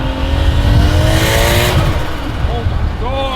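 A 750 hp big-turbo 1JZ engine in a Toyota Soarer revs loudly and close, a harsh sustained roar at night with a voice speaking over it.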